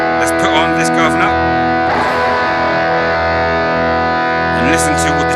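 Electric guitar played through a BOSS GT-1000 with the Guvnor distortion stacked on a high-gain stage with reverb, sustained distorted chords ringing continuously with a brighter strummed attack midway.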